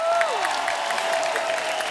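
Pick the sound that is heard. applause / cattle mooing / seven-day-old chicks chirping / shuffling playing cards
applause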